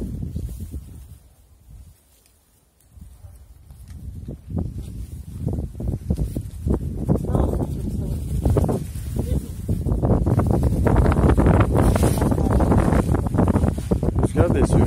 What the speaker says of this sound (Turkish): Rüzgar da esiyor rüzgar.